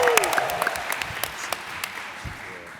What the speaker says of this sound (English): Can we get a round of applause again?